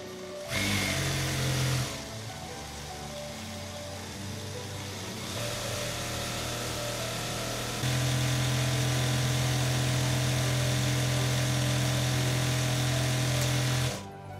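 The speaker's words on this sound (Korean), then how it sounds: "전원을 켜신 뒤에 발판을 밟아 감아주시면 되겠습니다" A 930 S sewing machine winds thread onto its bobbin, giving a steady close motor whir that shifts pitch in stages and rises to a higher, louder drone before cutting off near the end.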